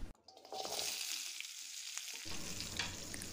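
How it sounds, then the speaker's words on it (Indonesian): Banana slices for pisang goreng sizzle and crackle steadily in hot frying oil, a continuous broadband hiss after a brief quiet start, with no voices over it. "Sambil nunggu goreng pisangnya"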